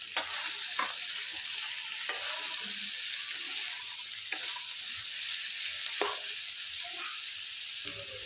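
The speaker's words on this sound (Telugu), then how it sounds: "ఇప్పుడు మనం ముందుగా కట్ చేసి పెట్టుకున్న బీరకాయ అనేది యాడ్ చేసుకున్నాము." Sliced ridge gourd frying in a hot pan and being stirred, a steady loud sizzle running throughout with a spatula scraping the pan at intervals, with no voices.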